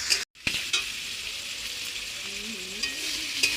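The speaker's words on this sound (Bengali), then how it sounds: "তাই তো আমার চিকেন আলু সব ভাজা ভাজা হয়ে এসছে" Chicken pieces and potatoes sizzle in a hot pan, a steady bright frying hiss with a brief dropout near the start and a few light clinks of a utensil stirring.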